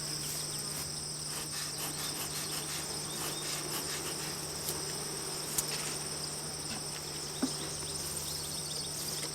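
Honey bees hum steadily around an open backyard hive during a queen check, a dense, even insect drone that runs unbroken throughout, with no voices.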